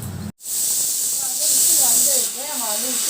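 Loud, steady steam hiss from a pressure cooker whistle while cooking coconut rice, sustained with a brief break near the start, with faint voices talking softly underneath.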